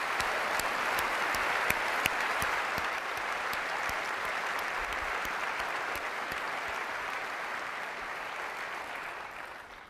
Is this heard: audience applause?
yes